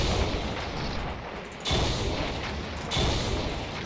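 Monster gunfire in Doom 2 with the Hell Crusher and Roguelike Monsters mods, booming blasts and rumbling mechanical noise that swell loudly, dip, then return in heavy bursts.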